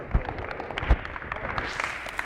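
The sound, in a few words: applause for basketball players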